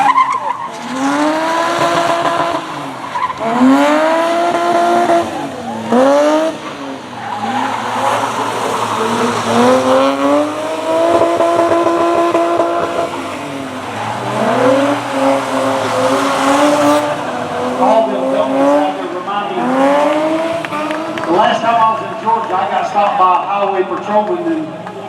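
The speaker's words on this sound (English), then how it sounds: "driving the four-wheeler" Four-wheeler and cars at a Smokey and the Bandit stunt show, engines revving and rising in repeated surges with tire squeal, loud and fairly close, while someone talks over a loudspeaker throughout.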